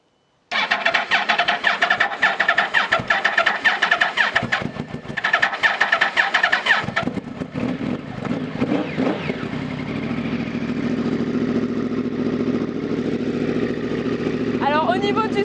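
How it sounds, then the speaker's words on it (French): A Yamaha R1 motorcycle cranks with rapid starter clatter, catches, and settles into a loud, steady idle close by, with a brief spoken word near the end. "On va peut-être la démarrer, non? Du coup, on va essayer de la démarrer."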